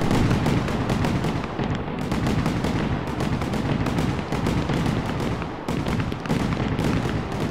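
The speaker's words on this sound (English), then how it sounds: "There's a lot of fireworks." Fireworks from the video game Fireworks Mania burst in a dense, continuous barrage, loud overlapping bangs and crackles with no pauses throughout.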